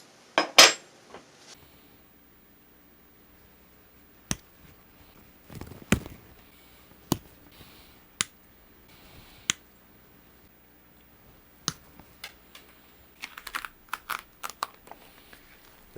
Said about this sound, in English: Now, let's get this fret wire cut.